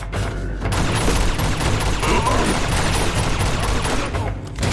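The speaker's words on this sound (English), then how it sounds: "Just keep shooting!" Rapid gunfire rattles continuously through a firefight in the video game Uncharted 2, loud and dense bursts with booming low impacts throughout.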